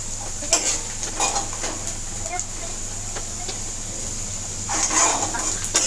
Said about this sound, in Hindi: तो मैं एक एक करके रोटियों को कढ़ाई के अंदर डाल दूँगी।